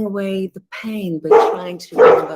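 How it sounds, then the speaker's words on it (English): A pet dog barks and yips indoors, its short tonal calls mixed in with a person talking close by. "oops, sorry, that's my dog"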